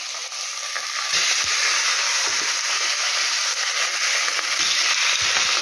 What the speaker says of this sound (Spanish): Vamos a coger 200 gramos de pechuga de pollo, ¿vale? En la sartén,